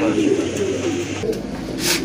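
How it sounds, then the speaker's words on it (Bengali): A pair of large black Bombay pigeons coo in low repeated rumbles, close by, while a person talks over them. "আরেক জোড়া কবুতর বিগ সাইজের কবুতর, ব্ল্যাক বোম্বাই কবুতর"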